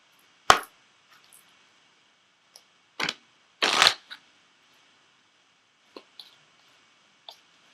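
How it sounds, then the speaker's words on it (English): Tarot oracle cards, an Ascended Masters deck, are shuffled in a few short, crisp riffles and snaps, with quiet pauses and faint taps between them. "So I am going to pull an Ascended Masters card for you."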